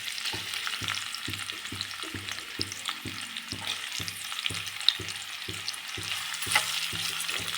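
Onions frying in hot oil for homemade veg fried rice, a soft continuous sizzle with a regular low ticking rhythm underneath, fairly quiet and without any talking.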